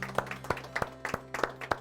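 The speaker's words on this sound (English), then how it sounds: "let's give yourselves a round of applause" A small group claps together after a training session, a round of applause made of sharp, irregular claps that rise in bursts, fairly close and moderately loud, with no talking over it.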